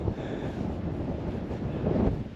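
Wind gusting across a coastal footpath on the South West Coast Path between St Ives and Pendeen, a steady low roar buffeting the microphone and swelling toward the end, with no talking.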